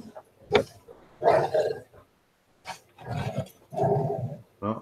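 Dogs fighting, with rough growls, barks and whimpers coming in several loud bursts separated by short pauses.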